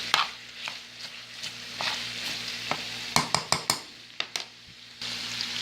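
Chicken pieces sizzle in a pan with a steady frying hiss, broken by sharp scrapes and clicks of a utensil stirring, close up and without speech.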